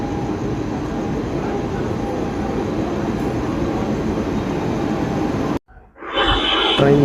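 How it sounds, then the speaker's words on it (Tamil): An express passenger train at a station at night, a steady loud rumble of wheels and carriages rolling through, broken by a brief sudden drop before the noise returns. "இந்த வண்டி வந்து பார்த்திங்கன்னா நிம்மதி ஸ்டேஷனுக்கு நைட்டு 11:41 அரைவ் ஆயிருக்கு"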